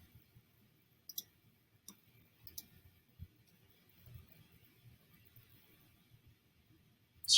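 A few sparse, faint computer mouse clicks spaced out over a quiet stretch, with soft handling noise between them, heard while working in a web page builder.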